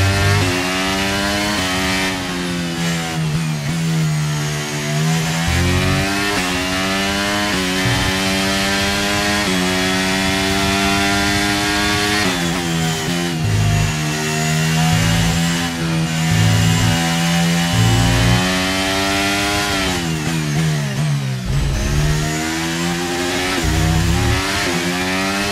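A Formula 1 racing car engine in the F1 23 video game, a Manor Racing car at the Qatar Grand Prix, roars loudly and continuously, revving up through gears with repeated pitch climbs and abrupt drops at shifts over about twenty-five seconds.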